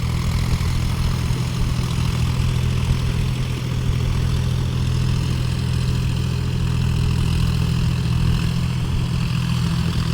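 John Deere 5050D tractor working in deep mud, its diesel engine holding a steady, loud low hum and throb throughout with no break in the droning.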